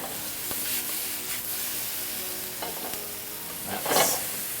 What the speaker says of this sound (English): Gonna give those guys one more stir.